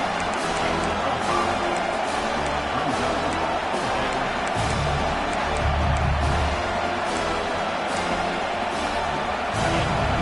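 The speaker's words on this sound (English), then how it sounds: "this crowd is making it miserable on this offense" Stadium crowd noise from the College Football 26 video game during Ohio State versus Oregon, a loud, continuous roar of massed voices that holds steady with swells of cheering and a few thuds, no clear talk on top.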